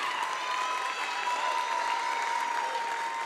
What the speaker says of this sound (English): please give a big round of applause for the successful career of Abby Matheson.